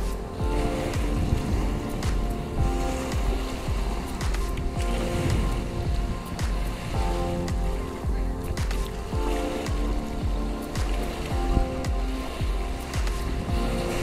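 Sea waves wash and break repeatedly on a black sand beach in Quezon, a steady surf roar with rhythmic surges, close and fairly loud, with no speech.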